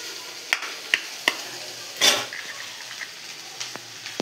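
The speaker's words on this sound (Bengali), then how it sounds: "3টে ডিম নিয়ে নিয়েছি, এক এক করে ফাটিয়ে নেব" Eggs are cracked one at a time against a bowl or pan, three or four sharp, close clicks spaced roughly half a second apart, followed by a softer splash and a few light taps.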